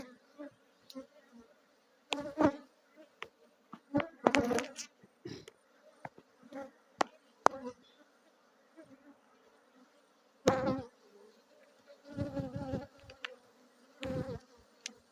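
Bees buzzing around a beehive being opened for inspection ahead of a honey harvest in Yamoussoukro, a steady close drone broken by loud bursts of handling noise and knocks on the hive.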